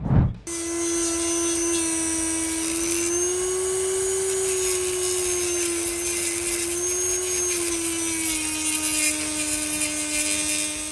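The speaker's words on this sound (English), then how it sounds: "I was using the angle grinder because it's steel, it's a little bit hard." An angle grinder cutting into a steel part during an airsoft rifle upgrade, a loud sustained high-pitched whine that holds nearly steady pitch with slight wavering across eleven seconds, starting abruptly after a brief clunk.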